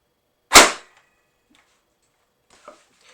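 An X-Shot toy dart blaster decocks with one sharp, loud snap, followed by a couple of faint clicks of handling.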